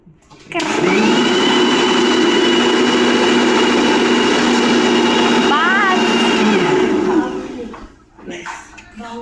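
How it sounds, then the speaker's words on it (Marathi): A mixer grinder whirs loudly and steadily for several seconds, then winds down and stops, leaving a few faint bumps afterward. "तीन वाजता मिक्सर चालवते"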